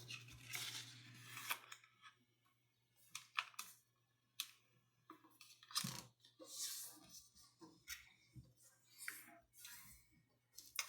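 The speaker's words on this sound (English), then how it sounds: "now I'm going to fold this top edge here to the center" Sheet of paper folded and creased for a paper airplane: crisp, close crackles and sharp sliding rustles in irregular bursts, with quiet gaps between the creases.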